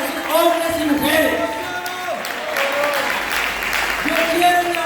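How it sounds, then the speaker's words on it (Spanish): A church congregation gives its choir a warm round of applause. The clapping swells and holds for several seconds, and a speaking voice carries over it. "Un gran aplauso para esos hombres y mujeres."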